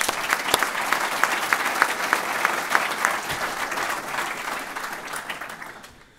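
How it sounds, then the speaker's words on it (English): An audience at a fire authority awards celebration claps for a team, with dense applause and distinct individual claps, loud at first and then tapering away at the end. "Round of applause to that team, Ralphie."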